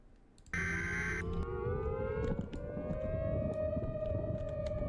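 A tornado siren wails steadily in the distance, a long rising and falling tone over wind and background noise, with a short electronic beep near the start.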